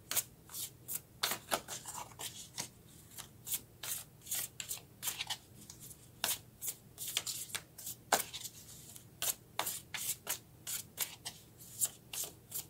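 Tarot cards are shuffled by hand in quick, crisp riffling bursts, repeating in an uneven rhythm of short flutters and pauses, close and fairly quiet with no talking.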